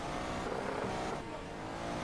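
A car drifting in a racing video game from a first-person view, a dense, loud engine roar with tire noise running steadily throughout, no talking heard over it.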